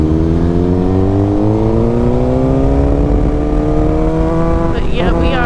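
Motorcycle engine while riding, a steady loud drone with slowly rising pitch as the bike accelerates in gear, plus constant wind rush and a brief shift-like change near the end.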